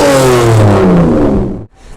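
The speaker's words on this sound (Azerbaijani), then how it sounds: "qaz ver, mühərrikin gücünə baxaq" A 2018 Kia Stinger's engine revs hard at a car market, a loud, close, sustained roar that holds steady, then cuts off abruptly near the end.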